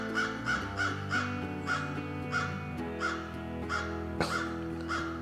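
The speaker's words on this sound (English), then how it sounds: "we're gonna get quiet here if the crows will shut up" Several crows caw repeatedly in a steady rhythm, harsh calls ringing out from a short distance along a ridge over a low continuous hum.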